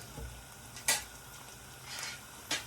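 Leeks and green chillies stir-fried in a pan for koththu roti, a low continuous sizzle broken by a few short scraping stirs of a utensil, fairly quiet.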